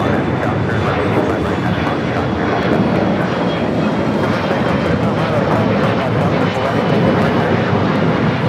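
British Airways jet airliner at Los Angeles International Airport, a loud steady broadband engine roar that holds throughout without fading, with voices talking over it.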